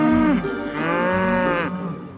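Cows on a dairy farm moo loudly and close by, first one shorter low call, then a long drawn-out moo that rises and holds before fading.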